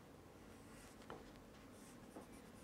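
A pencil sketches a rough animation drawing on paper, with soft, faint scratching strokes and a couple of brief sharper marks over quiet room hiss, no talking.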